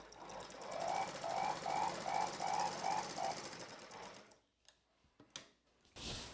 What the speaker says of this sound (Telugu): చివరి వరకు కుట్టు వేసుకోండి